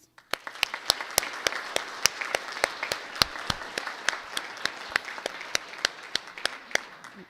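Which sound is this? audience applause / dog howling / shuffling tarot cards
audience applause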